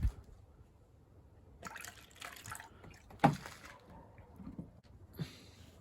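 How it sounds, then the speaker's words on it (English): Water poured into a glass of diesel fuel, heard as a few faint, scattered splashes and trickling drips with short quiet gaps in between. "if we now add water to it"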